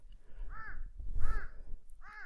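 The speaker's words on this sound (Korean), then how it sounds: "오늘도 뭐 까마귀도 와서 짖고" Crows give three loud, harsh caws spaced across a couple of seconds in a quiet winter countryside garden on a calm, sunny day.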